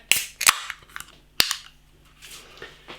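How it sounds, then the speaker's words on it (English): A sharp metallic crack and pop as the tab of a can of cape gooseberry and yuzu gose beer is pulled, followed by a brief soft hiss and faint rustling, close and otherwise quiet. "Nice bit of smoke on the can opening."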